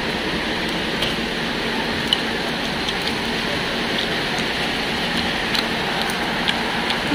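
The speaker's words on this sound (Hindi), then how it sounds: "गाइस, हमारे यहाँ बारिश हो रही है" Steady rain falls outside, a continuous even hiss with occasional faint drips and taps standing out, no talking.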